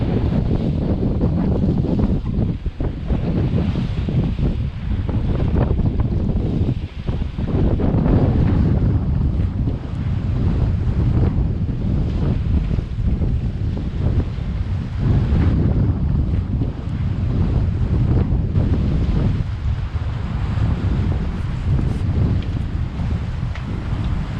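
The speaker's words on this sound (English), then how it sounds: "But it's good, it's nice sailing, making good speed." A single-handed sailboat runs fast across Cardigan Bay, Wales, in strong wind at around 18 knots, a loud continuous rush of wind buffeting the microphone over waves and water churning along the hull.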